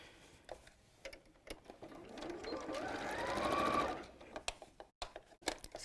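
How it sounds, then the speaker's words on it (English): A sewing machine runs a straight seam across the corners of a pleated fabric bag, one faint, steady whirring stretch rising and fading, with scattered light clicks and handling noises around it. "Open out these corners and sew straight across."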